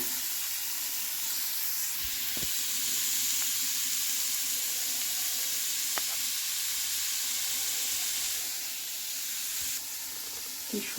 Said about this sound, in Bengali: দুধটা ভাজা ভাজা করবো।